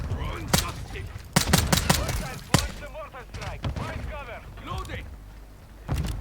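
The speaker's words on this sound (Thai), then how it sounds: "ระเบิดเยอะมากทุกคน" Rapid gunfire and sharp explosion blasts from the video game Warzone 2.0, bursting in irregular clusters at close range, mixed with game effects and some speech.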